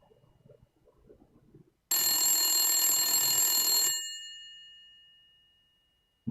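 A landline telephone in a bathroom rings in one loud, steady electronic burst of about two seconds, then rings out and fades away into silence with no one picking up.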